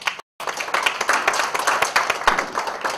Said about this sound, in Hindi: तो इस संस्था के लिए मैं सबसे पहले तो बहुत जोरदार तालियां चाहूंगा।